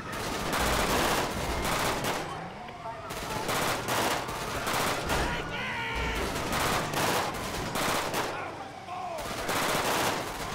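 Gunfire in a GTA video game during a truck robbery with police: repeated bursts of shots throughout, loud and close, while someone talks excitedly over them.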